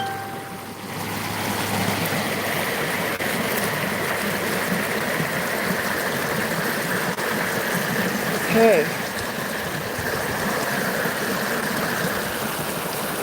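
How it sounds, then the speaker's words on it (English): McMillian Creek flows in a steady, continuous rush of moving water close by, with a brief spoken word partway through. "Water has profound healing properties, especially when it's moving like this."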